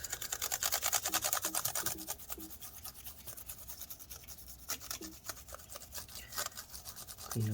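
Toothbrush bristles scrub back and forth between the keys of a late-2013 13-inch Retina MacBook Pro A1502 during mold cleanup, a close, steady rasping texture with brief pauses and no talking.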